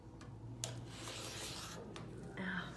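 A rotary cutter slices fabric and tulle on a cutting mat while piecing picture quilt blocks, giving soft, steady rubbing and scraping strokes with a few sharper snicks, close and fairly quiet.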